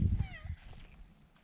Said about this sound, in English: The orange cat belongs to my neighbor.